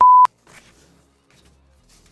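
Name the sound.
beep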